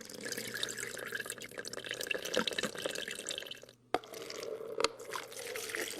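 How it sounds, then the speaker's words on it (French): Water poured over a coarse lump and over fine material of equal weight, a steady close trickling and dripping wash that runs on with a brief break near the middle before resuming. "On verse une quantité d'eau identique sur un gros élément et sur du matériau fin de même poids"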